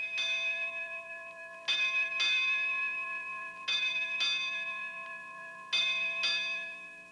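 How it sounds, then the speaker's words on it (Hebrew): A clock chimes in a slow, ringing pattern of paired bell-like strikes, each pair about two seconds apart, with long resonant decays between strikes and no talk over them. "זה צלצול השעון."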